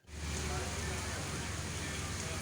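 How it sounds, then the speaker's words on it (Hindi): Rain pours steadily over a busy open-air market (mandi), a dense, close hiss that holds without letup for the whole moment. "बारिश कभी तेज़ हो जाती है, कभी आहिस्ता बारिश चल रही है।"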